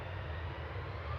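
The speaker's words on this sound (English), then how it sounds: "EasyJet on the roll. Heading off to Lisbon now with flight 2209." An easyJet airliner starts its takeoff roll at Manchester Airport, a steady low jet-engine roar that holds even and continuous throughout, heavy in the low end and somewhat distant, with no voices over it.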